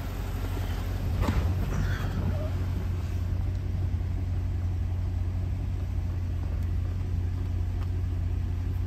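The engine of a 2008 Chevrolet Corvette C6 with aftermarket headers and exhaust idles with a steady, low rumble, fairly quiet and even throughout, with no talking over it.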